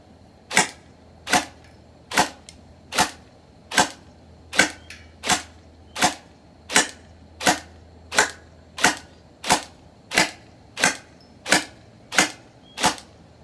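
An SLR CQB gel blaster with an LDT split gearbox fires sixteen sharp, evenly spaced shots outdoors, roughly one every 0.8 seconds, each a loud close crack with a short gearbox whir, and no talking.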